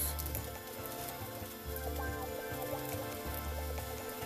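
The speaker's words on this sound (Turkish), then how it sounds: "Ekmeklerimizi kızartıyoruz." Bread and an omelette with melting kasar cheese sizzle in a hot pan, a steady close crackle and hiss of frying that continues without pause, with faint background hum and no voices.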